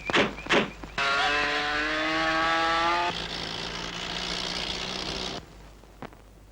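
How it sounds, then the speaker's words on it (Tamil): A car is driven off in a Tamil film scene. A couple of door-like thunks come first, then a loud rising engine whine with a tonal squeal that shifts and fades out after about five seconds. "டிரைவர், வண்டி எடு."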